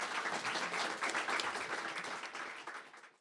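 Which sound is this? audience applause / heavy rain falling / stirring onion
audience applause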